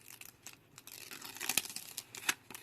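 Paper backing is peeled off a glued tufted rug: quiet crinkling and tearing with a few sharper rips near the middle and end, close and faint.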